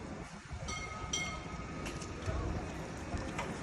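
T1 tram pulling into a stop at La Courneuve near Paris, a faint rolling rumble with light metallic clinks and squeals, under nearby talk.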